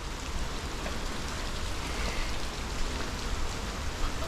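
Steady rain falls during a walk outdoors, a dense even hiss of drops that stays close and fairly loud throughout.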